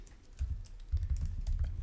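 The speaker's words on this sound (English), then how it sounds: "I'm going to type" Typing on a computer keyboard while writing Java code, a quick irregular run of light key clicks, close and alone with no talking.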